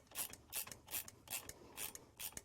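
A ratchet wrench tightens a new nut on a shock absorber's top mount, with bushing and washer, during a shock absorber replacement: six quick bursts of close metallic ratcheting clicks in steady rhythm, with no talking.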